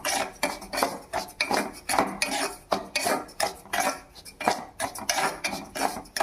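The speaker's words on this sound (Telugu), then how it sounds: "వేసుకున్నాక అది కొంచెం వేడెక్కాక రవ్వ బాగా వేపుకోవాలి." Semolina roasting in ghee in a pan, a spoon scraping and stirring in repeated rhythmic strokes with metallic clinks against the pan, close and steady throughout.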